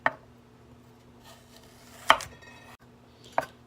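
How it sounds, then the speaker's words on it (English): A kitchen knife chops vegetables into julienne on a cutting board, three sharp, separate knocks with quiet gaps between them, close and moderately loud. "Cut them into julienne."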